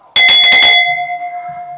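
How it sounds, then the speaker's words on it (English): A ship's bell is rung in a quick burst of about five bright strikes to celebrate a 70-pound fish catch, then its metallic tone rings out and slowly fades, loud and close. "I get to ring the bell because we had a 70-pounder"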